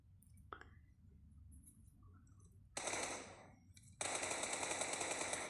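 Bursts of automatic gunfire in the mobile battle royale game PUBG Mobile, two sustained volleys of rapid shots, the second long and loud, with faint game sounds before them.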